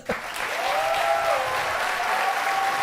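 An audience applauds a Kamala Harris speech on her economic plan: a dense, loud, sustained burst of clapping that starts abruptly and holds steady, with no voices over it.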